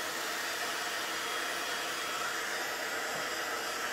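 A heat tool blows hot air steadily over wet alcohol ink, a loud, even rushing whoosh that holds without a break for the whole stretch.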